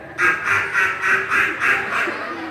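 Ducks quacking close by in a steady, evenly spaced run of about seven loud nasal quacks, with no talking.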